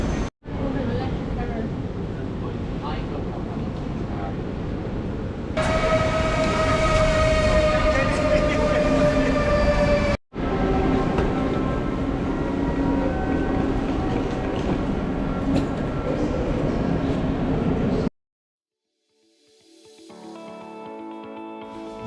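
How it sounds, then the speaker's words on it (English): Passenger train pulling out of Amsterdam Central bound for London St Pancras, a steady loud rumble of wheels and carriage noise with a brief break, followed by quieter voices and tones at the end. "This is us pulling out of Amsterdam Central all the way back to London St Pancras."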